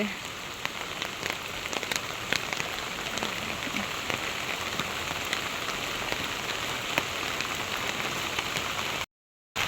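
Steady rain falls on surfaces outdoors, a dense continuous patter with scattered louder drops close by, cutting off abruptly just before the end.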